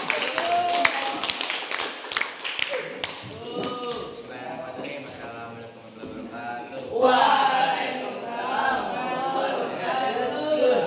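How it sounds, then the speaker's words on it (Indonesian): A classroom group claps for a presenting student team. Scattered, uneven hand claps and taps come first, then give way to students chattering and talking nearby. "Juga, tepuk tangan."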